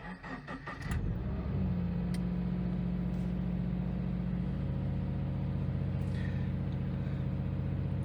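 A Toyota GT86 fitted with a TRD sound changer cranks briefly on a cold start, then catches and settles into a steady, fairly loud idle drone close by, with a few faint clicks and no talking.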